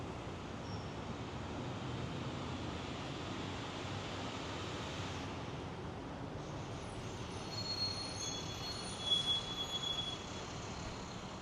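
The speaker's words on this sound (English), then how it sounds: "You have the trolley or the tram going over." A tram or trolley rumbles overhead on an elevated track above a Manhattan neighborhood, a steady loud roll of wheels lasting throughout, with faint high squeals and a brief louder clatter near the end.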